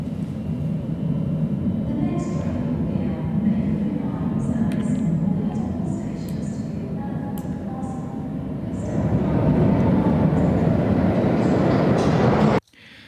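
A train rumbles and clatters steadily, growing louder and fuller as it nears a platform from inside a tunnel, with faint squeals and clicks, then cuts off abruptly.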